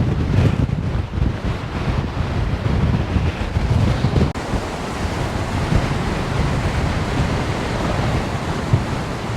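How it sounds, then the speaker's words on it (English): Strong wind on the Fife coastal path between Newport-on-Tay and Newburgh, a loud continuous roar buffeting the microphone with dense rushing gusts from start to finish and no voices. "it's wind"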